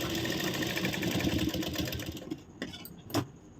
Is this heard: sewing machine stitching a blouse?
yes